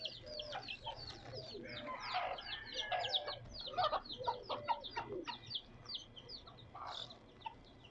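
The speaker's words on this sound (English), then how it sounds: "So these trees are full of chickens." Chickens cluck and chirp from the trees along Chicken Alley in Key West, a busy stream of short, fairly close calls overlapping one another throughout, with no talking.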